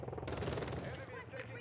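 Gunfire from a weapon in Modern Warfare 2, heard as a dense burst of rapid automatic shots that fades after about a second, with game ambience underneath.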